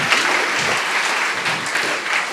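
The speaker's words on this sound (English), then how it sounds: "Give Gabriel a massive round of applause." Audience applause for a man named Gabriel at a Lent church service, a dense, steady wash of clapping held at an even level throughout, with no break and no talk over it.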